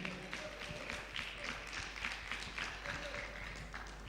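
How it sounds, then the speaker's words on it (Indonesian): Audience at an audition in Surabaya claps for a contestant being introduced, a dense, lively patter of many hands sustained for several seconds at moderate level. "Tepuk tangan yang meriah."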